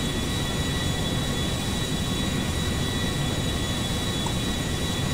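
An Airbus airliner's engines in a video game, the plane tuned to 400 horsepower, produce a loud, steady, unbroken roar with a faint whine on top, constant throughout with no voices.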